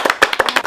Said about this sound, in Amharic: በሉ ለራሳችሁ አጨብጭቡ።